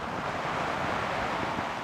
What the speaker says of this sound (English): Coming down pretty good, very windy.